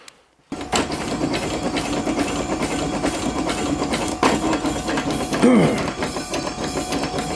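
A Locomobile double-acting steam engine running on compressed air gives a steady, close mechanical chuffing and clatter with a fast even beat, holding level throughout after a brief silent start.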